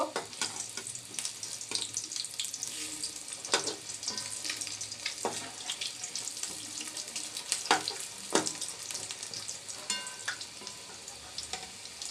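Shrimp fritters (chingri bora) fry in hot oil, a dense continuous crackling hiss with scattered sharper pops, close and fairly even throughout.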